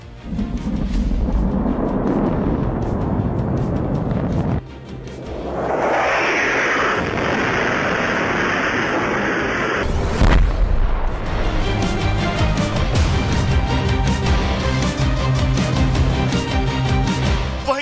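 Israeli air strikes hitting Lebanon, including Beirut: loud, continuous booming blasts and rumbling detonations fill the whole stretch, with a brief lull near the middle before a sharp burst and more sustained heavy explosions.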